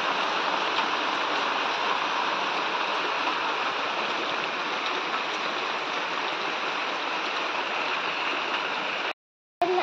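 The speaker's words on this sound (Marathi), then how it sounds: "मित्रांनो पुन्हा पाऊस चालू झालाय." Steady, dense rain pours down outdoors during the paddy-planting season, a loud unbroken hiss that continues for about nine seconds before cutting out briefly near the end.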